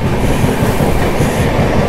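Train running through the tunnels between Karjat and Lonavala, a loud, close, continuous rumble with rhythmic wheel clatter and a boomy, enclosed quality, no voices.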